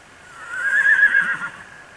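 A horse at a ranch corral gives a single clear whinny that swells and fades over about a second, fairly close, against quiet outdoor background.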